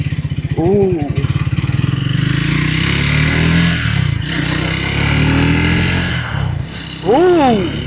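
A Triumph Scrambler motorcycle accelerates through first gear. The engine drones loud and close, with sharp rising revs near the start and again near the end.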